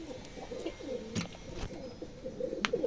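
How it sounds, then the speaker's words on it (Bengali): Pigeons kept in coops coo softly in overlapping, throaty rolls at close range, steady and low throughout, with a brief louder burst near the end and no talk. "এখন আমরা এক এক করে পায়রা দেখতে থাকবো প্রতিটা খোপের"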